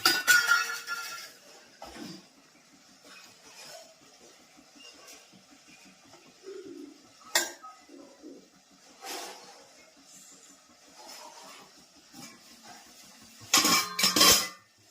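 Plates and a serving dish of khaman clink and knock against each other as they are set down. The sharp ceramic chinks are scattered through a quiet room, with a louder clatter at the start and end.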